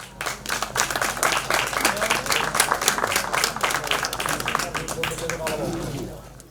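Audience applause for a speaker at a historical commemoration of the Pacte dels Vigatans, built from many distinct hand claps that rise quickly, hold strong and fade away near the end.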